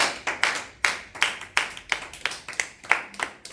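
A church congregation claps in a steady, even rhythm, about three claps a second, sharp and fairly close, with no voices over it.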